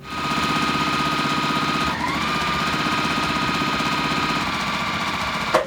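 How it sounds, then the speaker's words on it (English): A sewing machine stitches quilting fabric pieces together for half-square triangles, running in a loud, continuous rapid mechanical chatter close by, with a slight shift in pitch midway and a small click at the end. "sew all the way down on all of our pieces here"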